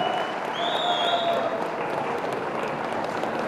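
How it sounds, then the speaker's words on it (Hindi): Audience applause at a cultural festival competition in Namsai, Arunachal Pradesh, a steady, even wash of many hands clapping, with a brief whistle-like tone above it. "बहुत ही जोरदार तालियां देवे सज्जनों"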